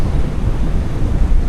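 Atlantic Ocean surf along the Santa Cruz waterfront in Madeira, a steady low roar of breaking waves mixed with gusting wind buffeting the microphone, loud and continuous with no voices.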